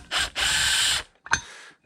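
Power tool removing Allen head bolts from the helix of an Arctic Cat snowmobile clutch: one sharp whirring burst of about a second, close and loud, then a short clack and a brief second buzz.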